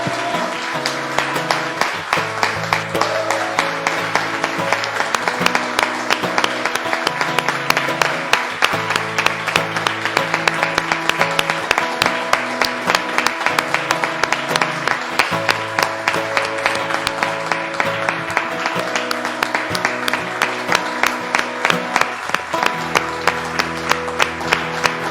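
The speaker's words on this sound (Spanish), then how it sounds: "Dale un fuerte aplauso al Señor" A church congregation claps along during a Christmas service, steady rhythmic applause running throughout over music.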